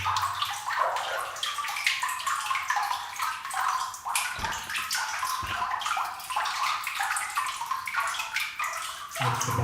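Turbulent white water rushes through an abandoned coal mine, a steady close splashing roar with gurgling surges and a couple of dull knocks, no talk over it.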